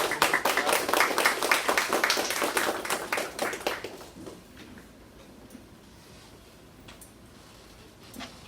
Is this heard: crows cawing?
no